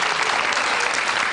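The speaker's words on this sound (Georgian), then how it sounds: "კიდევ ერთხელ თქვენი აპლოდისმენტები" Studio audience on a Georgian late-night talk show applauding Georgian athletes, a burst of dense, even clapping that stays loud and close throughout.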